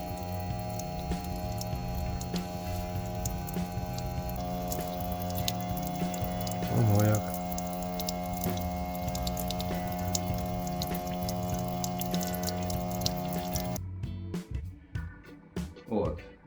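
Meltwater runs steadily off a heat pump outdoor unit converted from an air conditioner as it defrosts, a continuous close trickle and drip over a steady mechanical hum that cuts off near the end, leaving scattered drips.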